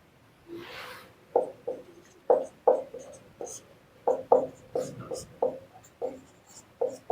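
Chalk or pen writing by hand during an Indian economy lecture on taxation, a run of short scratchy strokes in quick irregular bursts, close and clear, with a brief voice at the start.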